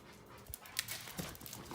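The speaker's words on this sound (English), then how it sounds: "These dogs are goofy, bro." Several dogs running around a house pant and whimper in short, close bursts, with a few sharper yips mixed into a busy, moderately loud background.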